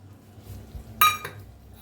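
A spoon scraping and clinking against a pan while paneer modak mixture is stirred with milk powder: quiet soft scraping, then one sharp metallic clink followed by a second, fainter knock.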